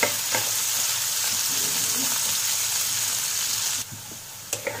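Potatoes frying in hot oil for aloo keema masala give a dense, steady sizzle close by, with a few soft stirring knocks and a brief drop in intensity near the end.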